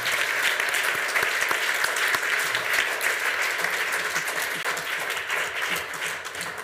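Conference attendees at a high-level education forum give the panelists a round of applause, with sustained, dense clapping that stays loud and even throughout before easing slightly at the close.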